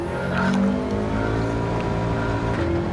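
A Subaru WRX Gr4 race car in Gran Turismo 7 drones along the Sardegna circuit, its engine holding a loud steady tone that dips and climbs with gear changes, with no voices.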